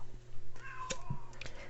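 A house cat gives a short, soft meow close by during a tarot card reading, amid light clicking and handling noises in a quiet room.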